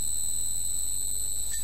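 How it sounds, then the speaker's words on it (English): An Allen Bradley variable frequency drive running a motor at 50 Hz gives off a steady high-pitched electronic whine with a constant low hum underneath, close and continuous. "it's running at 50 Hz. Okay, and that's the noise of the drive"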